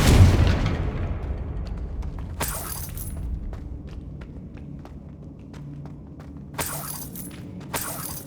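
A Confringo blasting curse goes off in Hogwarts Legacy, a deep boom at the start decaying into rumble, followed by bright crashing, shattering bursts and light footsteps.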